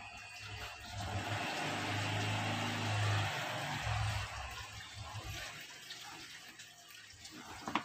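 Water pouring steadily into a rain chamber tank, a loud continuous rushing splash that holds for several seconds, then thins and drops toward the end with a few faint knocks, and no talk.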